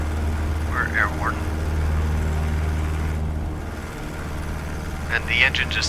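A Cessna 152 single-engine plane drones steadily in flight in Microsoft Flight Simulator, a constant low hum with brief voice-like sounds over it.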